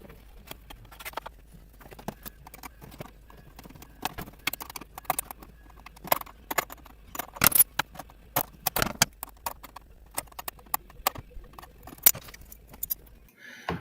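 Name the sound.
removing metal running hardware from RC boat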